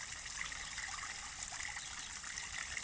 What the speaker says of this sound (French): l'eau que vous entendez de cette petite cascade